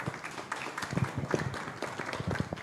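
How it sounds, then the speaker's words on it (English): Scattered audience applause after an arts salon panel discussion, a brief patter of claps filling the room at moderate distance. "Appreciate the applause nonetheless"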